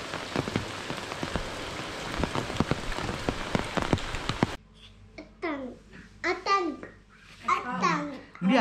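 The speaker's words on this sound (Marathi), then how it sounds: "खूप पाऊस पडतोय" Heavy monsoon rain pours down at a resort in Mahabaleshwar, a dense, close hiss of drops on surfaces for several seconds before cutting to children chattering and babbling.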